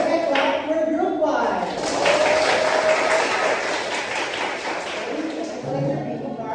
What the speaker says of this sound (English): let's give a round of applause for Margaret Clark for group 1.